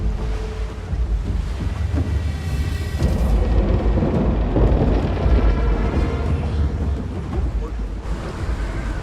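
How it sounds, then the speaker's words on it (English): Rain and storm wind sweep over the northern seas in Blade & Soul, a loud, continuous roar of gusts and rushing water with swelling surges and rumbling low end. "Where did this rain come from?"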